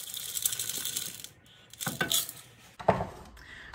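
Cocoa powder, salt and chunks of chocolate drop into a pot for homemade hot fudge, a series of soft rattles, clinks and rustling pours close by, with no talking.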